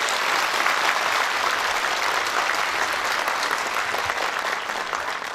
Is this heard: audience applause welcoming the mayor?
yes